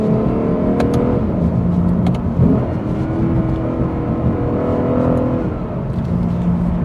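A Lexus RC F with a V8 accelerates hard, its engine a loud, steady roar that builds over several seconds with no voices over it.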